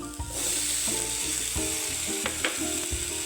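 Chopped bottle gourd drops into a hot pan of oil with cumin and garlic and sizzles steadily and loudly, with a few stirring clatters and scrapes breaking through the continuous frying hiss.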